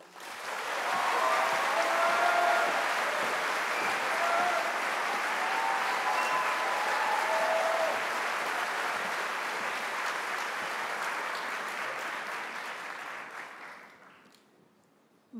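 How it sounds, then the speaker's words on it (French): At a graduation ceremony in a hall, an audience claps loudly and steadily for about thirteen seconds before the applause fades out near the end. "Donc je vous prie d'applaudir super fort"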